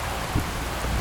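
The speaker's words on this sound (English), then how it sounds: "choppy seas and rain and not a lot of wind" Rain pours steadily on a sailboat at sea during a thunderstorm, a dense close hiss with a soft low thump, no voices.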